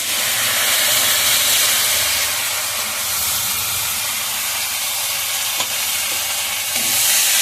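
A ground paste of ginger, cumin, coriander, garam masala and dried chili fries hard in a pan. A loud, dense sizzle and hiss carries on throughout, with faint stirring beneath it and no speech.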